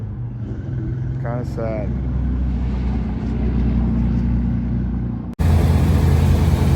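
A vehicle engine rumbles steadily and close by as the vehicle pulls away, then the sound cuts to a louder, rougher engine roar. A person speaks briefly over the engine noise.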